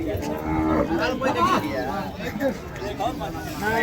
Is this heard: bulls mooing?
yes